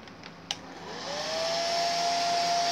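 A hair blow dryer on its low setting runs steadily about a foot from a painted rock, drying the paint; a small knock starts things before the motor whirs up and holds a constant airy hum.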